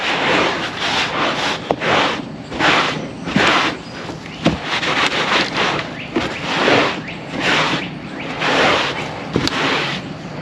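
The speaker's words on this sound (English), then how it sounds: "Again, this towel's stained already while I'm using it on this carpet. So we're just gonna go through, rub it down." A towel is rubbed back and forth over a dirty carpet, each firm rhythmic stroke making a close, scratchy swish, about a dozen in steady succession with no voices.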